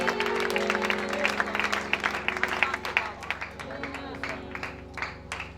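A church congregation claps and ululates in praise at a service, with a dense run of uneven hand claps and shrill cries rising over a steady background murmur, fairly loud and lively throughout.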